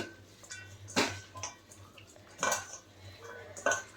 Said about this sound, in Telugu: ఇదైతే ఒకసారి కలిపేసుకుందాం ఈ కారం నిమ్మరసం ఉల్లిపాయ టమాటా ముక్కలు అన్నీ అయితే బాగా మిక్స్ అవ్వాలి